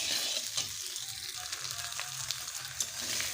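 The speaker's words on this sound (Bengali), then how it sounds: "মাছের মাথাগুলো বেশ ভালোভাবে কষে নিয়েছি" Katla fish heads frying in a pan, a constant hissing sizzle with brief scrapes and taps as they are stirred, fairly close and even throughout.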